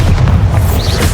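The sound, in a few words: Bombarda explosion spell in Hogwarts Legacy video game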